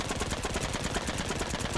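Soviet pistol shots in the online war game Heroes & Generals ring out as a fast, steady string of sharp reports, each with a short ring, at a moderate level with no talk.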